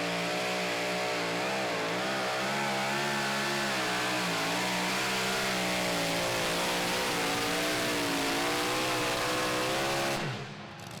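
Big Ed Red, a super modified two-wheel-drive pulling truck, roars at full throttle during a pull in Franklin, Kentucky, its engine note wavering up and down steadily for about ten seconds before cutting off abruptly near the end.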